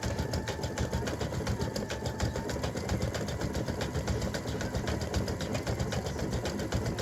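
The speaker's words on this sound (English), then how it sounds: "it's just about finished stitching the white part of the candy cane" An embroidery sewing machine satin-stitches the white part of a free-standing lace candy cane earring, a steady close mechanical whir with fast regular needle pulses running throughout without a break.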